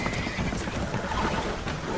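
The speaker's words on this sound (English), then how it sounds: "Horses are spooked, and we're taking on water." Horses whinny and neigh loudly in the video game Red Dead Redemption 2, amid clattering hooves and splashing water, a dense, chaotic burst of animal noise with a faint voice mixed in.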